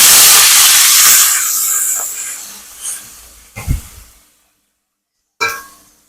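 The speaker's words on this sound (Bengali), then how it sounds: "এতে জিরে আদা পেঁয়াজ রসুন এটা আমি ভালো করে ভেজে নেব" Cumin, ginger, onion and garlic hit hot oil with a loud, broad sizzling hiss that fades over about two seconds, followed by a few soft clatters and then near silence.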